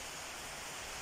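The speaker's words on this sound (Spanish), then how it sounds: "no sé si escuchan el ruido del agua" Water runs in a steady hiss inside a home bedroom, a constant broadband rush that is faint and unbroken, with nobody speaking over it.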